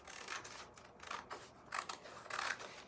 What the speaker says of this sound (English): I'm gonna first cut off the bottom margin